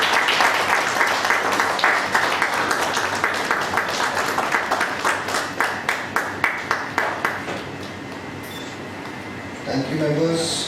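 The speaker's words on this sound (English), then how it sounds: "Members, let's have a round of applause to the Speaker." A meeting audience claps steadily for several seconds, the applause thinning into scattered individual claps before fading, with a voice briefly speaking at the end.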